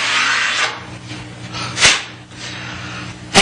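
A Shopsmith SS115 molder cuts wood molding with a close, loud rasping rub in several uneven passes, including a sharp burst near the middle and another at the end, and no voices.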